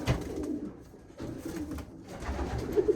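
Young pigeons coo softly in a loft, a few low, throaty murmurs close by and fairly quiet, with no voices.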